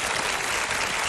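Steady, dense studio audience applause fills the whole moment at a constant level, a broad wash of clapping with no pauses and no voices over it.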